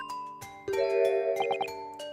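Bells chime in The Great Ace Attorney Chronicles, a bright ding-dong peal with a few quick ringing strikes and a sustained shimmer, clear and alone for about two seconds.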